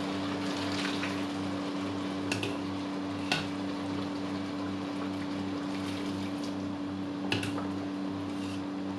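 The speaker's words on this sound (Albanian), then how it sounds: "Si fillim do shtojmë ujë sa të mbulohet mirë orizi." Water pours into a pot of rice already cooked with vegetables for a squash risotto, a steady rushing wash over a low kitchen hum, with a few soft clinks and no talking.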